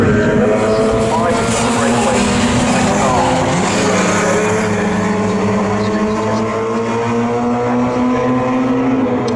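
Mini Seven race cars at Snetterton circuit, Dunlop Mini Seven and Mini 7 S Class race, roar past in a bunched pack, their engines droning loudly and continuously with rising and falling pitch throughout.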